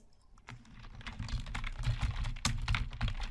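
Quick run of keystrokes on a computer keyboard typing a notebook name, close and fairly quiet, with irregular clicks building in a short burst.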